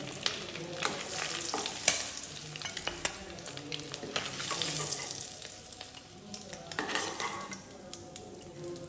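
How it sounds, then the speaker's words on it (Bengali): Turkey eggs browning in hot oil in a pan, a steady crackling sizzle with frequent clinks and scrapes of a utensil against the metal, close and fairly loud, with no talking. "এবার খুব সুন্দর ডিমগুলোকে লাল লাল করে ভেজে নিলাম"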